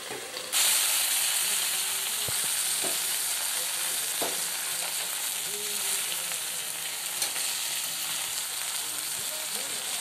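Broken fish-head pieces fry and get stirred with vegetables in a pan for Bengali chhyachra, giving a steady close sizzle and hiss broken by occasional light scrapes and taps of the spatula.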